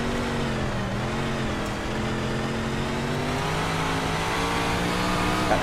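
Vitale's 213 race car engine drones loud and steady from onboard during a heat race at Fairbury, its pitch easing and climbing through the turns, with no talk.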